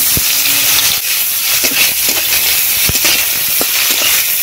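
Chopped onions drop into hot mustard oil with panch phoron in a kadai, giving a loud, steady hissing sizzle close up, dotted with sharp spitting pops.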